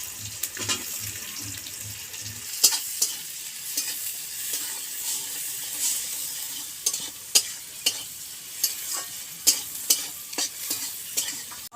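Chopped onion, with a little salt, fries in oil and is stirred, a constant close sizzle broken by repeated sharp spatula clicks and scrapes against the pan.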